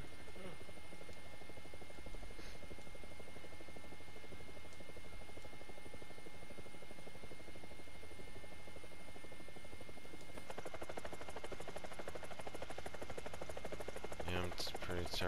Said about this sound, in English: Work on my helicopter.